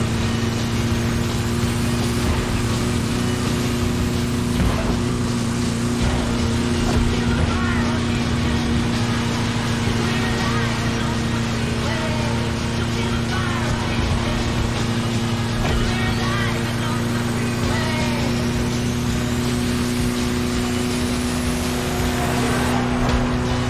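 Steady droning engine of a Volkswagen Kombi van cruising in The Crew Motorfest racing game, a continuous low hum held at an even level throughout, with voices talking over it.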